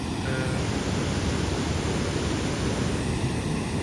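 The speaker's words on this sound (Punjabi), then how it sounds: "ਪਾਣੀ ਦੀ ਆਵਾਜ਼ ਤਾਂ ਦੇਖ ਲੈ ਤੁਸੀਂ ਬਹੁਤ ਐਨ ਆਉਂਦੀ ਹੈ" Steady, loud rush of a river swollen with floodwater, a continuous broadband roar that never lets up, with no voices.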